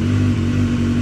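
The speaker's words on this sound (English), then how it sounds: "So start the engine" A BMW S1000R motorcycle engine running steadily for a brief moment, a loud, close, even mechanical hum with no speech.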